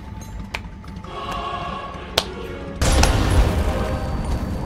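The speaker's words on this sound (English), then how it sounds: "Holy hand grenade." Holy hand grenade detonating in the video game Worms WMD: a sudden, loud broadband blast about midway through, followed by a sustained rumbling roar over the game's background sounds.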